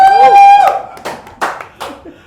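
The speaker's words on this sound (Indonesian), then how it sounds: "Tepuk tangan dong." A few bursts of hand clapping at an interview with a band, coming in short irregular spurts under and after a sung or spoken voice, fairly loud and close.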